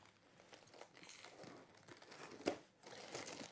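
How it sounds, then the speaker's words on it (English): A plastic bag holding a battery charger is crinkled and rustled close by, with soft irregular crackles and one sharper crumple midway, no talking. "Then we've got something here in a plastic bag."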